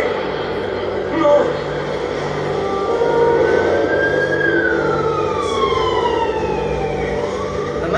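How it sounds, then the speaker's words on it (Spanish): A wailing ambulance siren rises and falls as it passes, sweeping in pitch over steady traffic rumble, with some talking nearby. "es una ambulancia que acabó de pasar"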